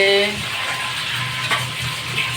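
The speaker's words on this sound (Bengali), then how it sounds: "চিকেন ফ্রাই করা হচ্ছে" Chicken fries in a pan on a large two-burner cooking setup, a steady close sizzle with light stirring scrapes and occasional clinks, a brief tonal sound at the start over the crackle.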